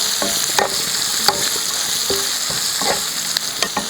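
Three chopped onions sizzle and fry in a pan, with a spoon repeatedly stirring and scraping through them in an irregular rhythm, loud and close, no talking.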